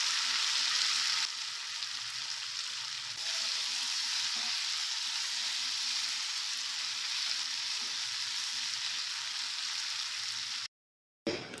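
Cut bread pieces frying in a pan for a hotel-style bread bath, a steady loud sizzle with faint stirring throughout, ending in a short silence.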